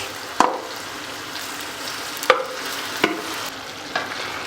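Soft frying sizzle of tomatoes in a pot, broken by four sharp scraping clicks of a spoon stirring, spaced unevenly; no talking.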